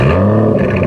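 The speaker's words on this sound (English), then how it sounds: "You've got to listen to the engine start up." An Aston Martin DB11 AMR's V12 engine fires up close by, a loud, deep, harmonic roar that settles into a steady rumble within a second.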